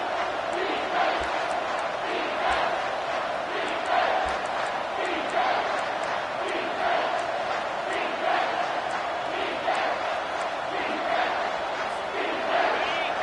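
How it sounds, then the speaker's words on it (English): A stadium crowd in the College Football 25 video game roars steadily on a third-down defensive stand, a dense, sustained wall of cheering and shouting with rhythmic swells. "Decibels rising as the crowd gets behind this defense on 3rd down."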